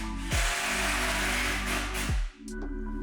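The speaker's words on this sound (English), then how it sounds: "drill 4 pilot holes through the side of the cabinet, one in each corner of the panel" Power drill boring pilot holes with a 3mm bit through the side of a kitchen cabinet into an end panel, a steady loud whine running nearly continuously with brief dips as the bit bites and stops.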